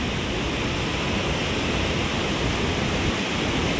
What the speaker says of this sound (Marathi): इथं कसं पाणी एकदम आपटून दगडावरून आपटून